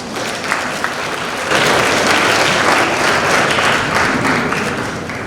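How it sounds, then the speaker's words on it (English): Students at a winter band concert break into sustained, fairly loud applause that swells after the first moment and holds steady, a dense wash of many hands clapping with no talking over it. "Good, give yourself a round of applause."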